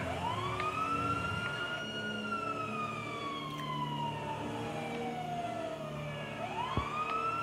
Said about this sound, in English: we're going to put on sirens because it's an emergency